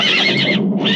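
A loyal steed neighs loudly and close in a Soviet Tajik film epic, one sustained shrill whinny that briefly breaks and then rises again, standing alone without speech.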